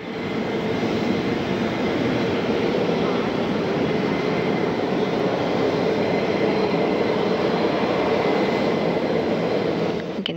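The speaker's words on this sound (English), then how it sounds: "the wheels are down on the shuttle carrier aircraft as it begins its approach to Ellington Field" Space Shuttle Carrier Aircraft with its wheels down, approaching Ellington Field to land while carrying Endeavour, heard as a steady, loud, broadband jet roar that holds evenly for the whole stretch with no voices.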